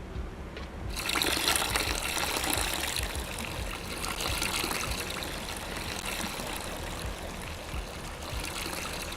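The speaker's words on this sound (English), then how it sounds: "We're going to pour it in." Water pours in a steady, gushing stream into a mash tun in a beer brewing simulator video game, starting abruptly and running on for several seconds, loud and close with no voices.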